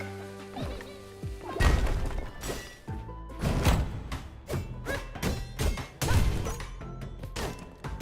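A bomb in the video game UnderMine 2 goes off among a string of heavy crashes and thuds, several loud impacts landing in quick succession.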